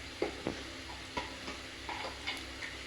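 Spices for chicken pulao sizzle in a pan, with a steady soft frying hiss broken by a few light stirring scrapes at irregular intervals, close and fairly quiet with no talking.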